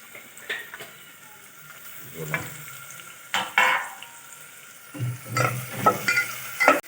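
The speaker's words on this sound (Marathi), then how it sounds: "तेल टाकलं का ओनियन लसूण म्हणजे कांदा लसूण" Onion and garlic frying in oil in a pan, with irregular close stirring scrapes and bursts of sizzling.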